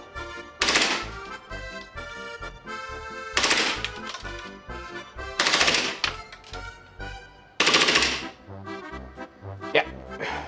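A KJW KP-13F airsoft Glock pistol fires on full auto in four loud, rapid bursts of sharp cracks, each about a second long, separated by short pauses, with a brief extra rattle near the end.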